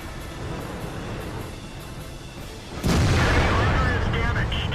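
Tank gunfire in World of Tanks amid constant battle rumble, with a sudden loud blast partway through that lifts the noise into a sustained roar and crackle, and a voice talking throughout.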